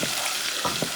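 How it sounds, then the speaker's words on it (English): A garlic mojo sauce with black pepper, thyme and garlic sizzles steadily in a pan, with a couple of soft stirring strokes heard up close over one second. "you're going to stir this baby a little bit"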